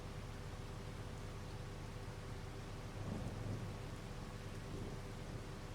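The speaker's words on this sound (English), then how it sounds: "Why is it still raining and not gone sunny?" Rain falls steadily in Farming Simulator 25 while thunder rolls low beneath it, with a heavier rumble swelling around the middle; no talk.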